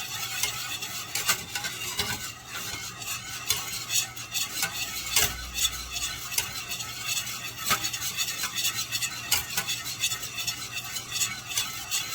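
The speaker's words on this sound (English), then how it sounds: "Make sure you stir that, make sure there's nothing sticking to the bottom." Heavy cream sauce being stirred in a pan for garlic parmesan pasta, a steady continuous scraping and swishing with faint sizzle and occasional utensil clinks against the pan, close and alone without talk.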